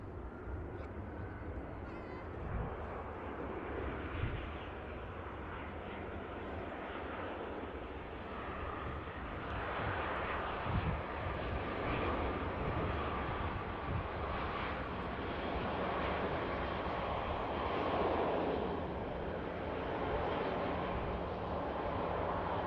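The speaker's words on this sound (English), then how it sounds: "Just going to vacate right in front of us, this EasyJet." An EasyJet airliner vacating the runway at Manchester Airport produces a moderate, steady engine rumble close by, with soft fluctuations and occasional distant voices underneath.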